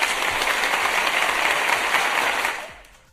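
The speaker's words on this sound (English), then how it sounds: "that clapping sounded like horrendous rain on a roof" Dense, steady clapping from a group carries on loud and uniform, almost like heavy rain, then tapers off at the end.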